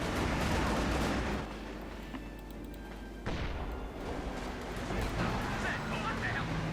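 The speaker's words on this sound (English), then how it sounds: "This time another gunshot." Gunfire and explosions rattle through a Company of Heroes 2 battle, loud and continuous with dense bursts and a sharp break midway, while a commentator talks over the combat.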